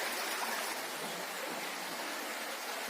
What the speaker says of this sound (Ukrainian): Така річечка гарна, в загорцях тече.